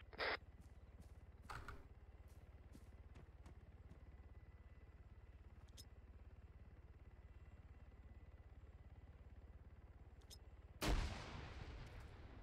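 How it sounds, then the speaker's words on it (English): Grenade fire in Arma 3, with a few sharp, distant-sounding blasts spread apart, the loudest near the end, over a quiet low rumble. "Taking grenade fire, northeast."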